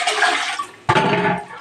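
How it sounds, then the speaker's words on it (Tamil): Water splashing and rushing while a kitchen wet grinder is rinsed out, a steady gush that cuts off briefly and then surges again, loud and close. "கிரைண்டர் கழுவிட்டு தான் போடும்."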